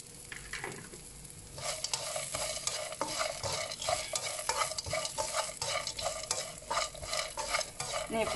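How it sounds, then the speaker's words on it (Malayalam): Potatoes fry in a pan for aval uppumavu while being stirred continuously, a busy sizzle mixed with rapid scraping and tapping of the spoon, steady and close. "ഇനി പൊട്ടറ്റ ഒന്ന് ചെറുതായിട്ട് ഫ്രൈ ആയി വരുന്നിടം വരെ നമ്മൾ ഇളക്കി കൊടുക്കണം."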